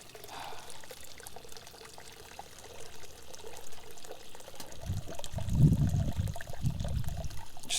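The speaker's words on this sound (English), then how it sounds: "Cut the heat and drain out the water" Cooking water pouring out of a pot being drained in a kitchen, a fairly quiet splashing gush that starts after a few seconds of near silence and continues steadily to the end.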